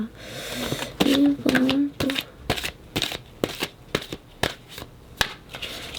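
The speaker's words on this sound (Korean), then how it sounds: "1번 뽑으신 분들 마치기 전에 조언 카드 한 장 뽑아볼게요" Tarot cards being shuffled and drawn from a deck, a run of sharp riffling snaps and slaps at a close distance, with a brief voice murmur near the start.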